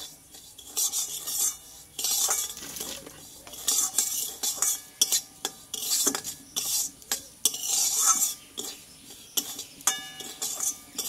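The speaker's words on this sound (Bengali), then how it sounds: "এই সুজিটা আমি একটু লাল লাল করে ভেজে নেব।" Semolina being dry-fried on low heat in a pan, repeated scraping and stirring strokes of a metal spoon against the pan in uneven bursts, close-up with a faint sizzle underneath.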